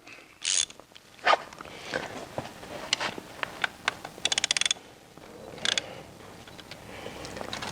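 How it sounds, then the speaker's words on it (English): Magnetic sump plug being unscrewed from a car engine's oil pan to drain the oil, with soft metallic clicks, brief scrapes and a quick rattling burst of small mechanical sounds close by. "and now the sump plug will come out, trying not to drop it into the oil"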